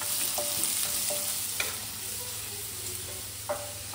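Chopped onions with cumin seeds sizzle steadily in an oil-filled pan, with a few scrapes and stirs of a spatula over the continuous frying hiss; no voices.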